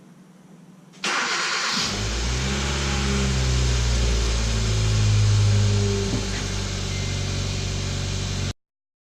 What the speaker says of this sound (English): Manual gearbox with a push start button, clutch, not a brake.